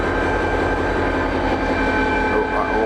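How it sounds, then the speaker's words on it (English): DSB double-deck passenger train hauled by a diesel locomotive at Østerport Station in Copenhagen, a loud steady engine drone with low rumble as it prepares to pull out, heard close by. "This looks like a double-deck diesel locomotive run by DSB, which is the Danish railway company."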